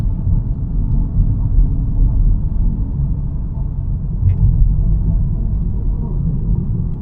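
Audi A3 car driving uphill in drive 4, heard from inside as a steady, loud low engine and road rumble that holds constant throughout with no speech.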